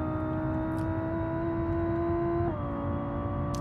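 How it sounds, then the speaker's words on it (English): Steady, loud engine drone from a car driving a long, wide road in the BeamNG driving game, holding an even pitch before a slight gear-like dip partway through, with no speech. "And listen to that engine."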